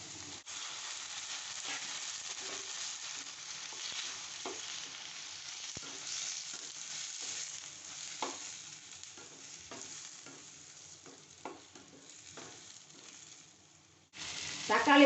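Three large chopped tomatoes sautéing in a pan with cashews for paneer butter masala, a steady soft sizzle with occasional stirring scrapes, ending in a louder burst near the end.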